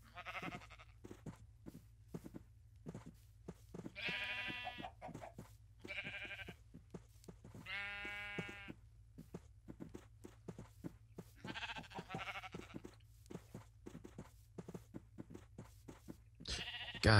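Sheep in the ChainWorld video game bleat repeatedly in clear, wavering cries spread over a steady low hum, with several separate calls and soft clicks between them.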